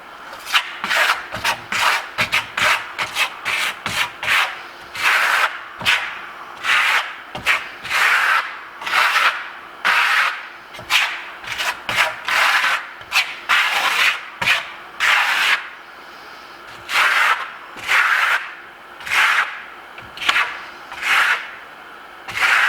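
A steel trowel rasps and scrapes across a wall as bi-coloured Venetian plaster (marmorino) is spread and smoothed, in close, loud strokes repeating in a steady rhythm with short pauses between.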